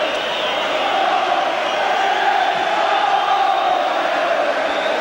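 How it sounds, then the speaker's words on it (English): Crowd at the 1990 FA Cup semi-final replay between Oldham Athletic and Manchester United, a continuous loud stadium roar filling the whole stretch without a break. "Thunderous applause."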